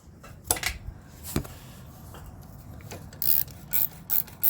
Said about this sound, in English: 8mm socket, take that loose.